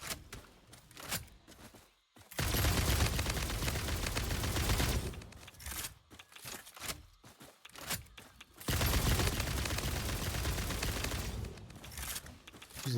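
Gunfire in the game Satisfactory, aimed at three chunky hogs guarding a bauxite node: a dense, loud burst lasting several seconds, then a gap with scattered lighter sounds, then a second sustained volley.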